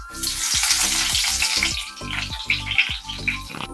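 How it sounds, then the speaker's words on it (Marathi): Cumin seeds and curry leaves hit hot oil with a loud, close crackling sizzle that spits and pops steadily, settling slightly toward the end, with no voice over it. "तेल तापलेले आहे आता आपण याच्यामध्ये जिरे टाकूया लगेच आपण कढीपत्ता टाकून घेऊया"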